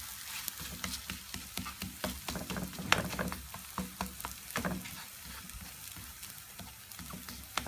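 A savory crepe filled with cheese, tuna and olives sizzles steadily as its second side browns in the pan, with a continuous close frying hiss broken by occasional sharper crackles and pops.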